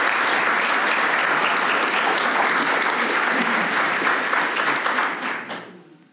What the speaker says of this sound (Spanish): Gracias por los aplausos.